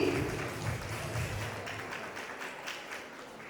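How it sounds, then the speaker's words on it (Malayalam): A crowd claps in a brief burst of applause that thins out and fades away after a couple of seconds. "നല്ലൊരു കൈയടി കൊടുക്കുമോ for this lovely family?"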